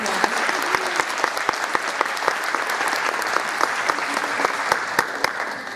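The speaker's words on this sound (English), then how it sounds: "give him a big round of applause" A small crowd claps steadily for several seconds, a dense patter of individual hand claps with no voices standing out.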